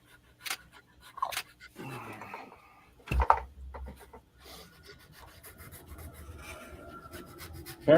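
Intermittent scratchy rubbing of sanding on wood, quiet and close, with a few sharp knocks and soft handling noises between strokes.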